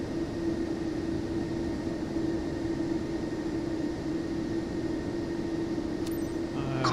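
Airliner engines in Microsoft Flight Simulator 2024 during takeoff, a steady loud droning roar with a constant tonal hum, holding even throughout with a brief click near the end.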